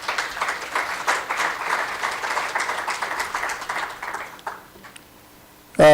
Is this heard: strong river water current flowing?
no